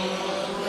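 A race car roars past at Bakersfield Speedway during a dirt track heat race, a brief, loud, steady engine drone with a sharp harmonic whine.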